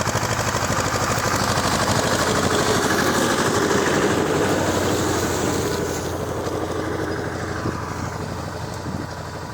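A T-series tractor pulling a Bellota Kverneland 1-50 plough across a field after corn, its engine droning steadily and loudly up close for the whole stretch, easing off slightly toward the end.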